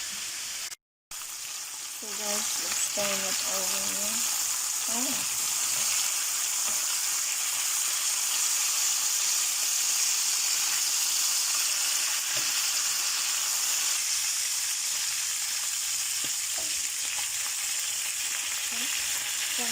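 Marinated chicken for Filipino adobo fries loudly in a pan, a constant close sizzle and crackle with a brief gap near the start, while someone talks a little over it.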